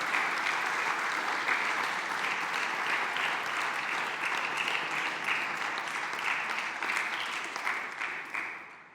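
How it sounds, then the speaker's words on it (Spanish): Applause from a church congregation fills the room, a dense, steady wash of many hands clapping at moderate distance that holds for several seconds and then begins to taper off at the end. "Den un aplauso al Rey."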